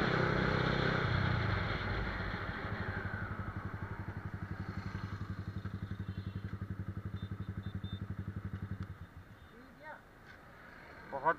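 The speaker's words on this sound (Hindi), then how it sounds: "बस हल्की हल्की कानों में चुभ रही है, इतना भी नहीं कानों में चुभ रही है, बट ठीक है जितना भी एग्जॉस्ट है" A Yamaha R15 V2 motorcycle fitted with a Daytona aftermarket exhaust revs loudly close by, then settles into a steady, rapid, pulsing idle before cutting off near the end.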